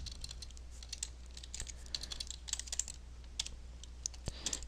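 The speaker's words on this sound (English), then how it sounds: "Type down the text here" Text typed on a computer keyboard, a run of quick, light, fairly faint keystrokes over a steady low hum, with no talk.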